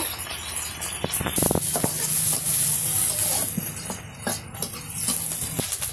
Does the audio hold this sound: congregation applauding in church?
no